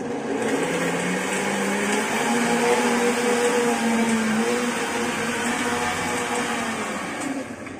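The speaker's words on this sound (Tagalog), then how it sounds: "On na po natin ang ating blender." A blender runs at full speed with a loud, steady whirring roar that holds for several seconds, then eases slightly at the end.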